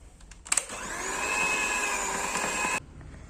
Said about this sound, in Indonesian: adonan di mixer sampai adonan setengah kalis